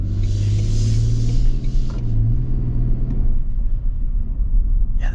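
A 2025 Toyota Sequoia or 2025 Lexus LX700h hybrid SUV accelerates, heard from inside as a loud, steady low engine drone with a rising hum that eases off toward the end, no talk.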